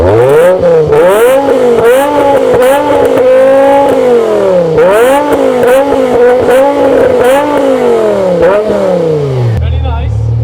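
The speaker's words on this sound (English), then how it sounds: "You want to rev it?" A BMW M5 engine revs repeatedly, the pitch climbing and falling in loud rising sweeps, close up at a car meet, ending with a settling idle.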